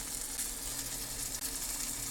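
Garlic sizzling in a pan while making turkey vegetable soup, a steady dense crackling hiss, close and even, with no talking over it.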